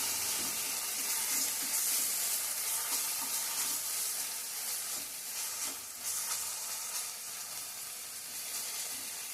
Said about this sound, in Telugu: చక్కగా నూనెలో వేగిద్ది కదా మసాలా